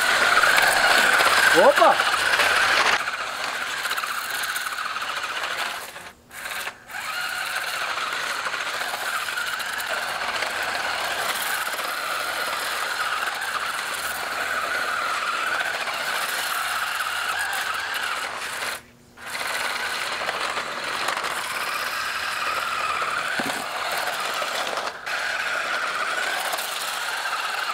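A small toy drift car skids and drives continuously, a whirring motor with scraping tire noise, fairly close and steady, with a couple of brief dropouts; a voice exclaims briefly at the start.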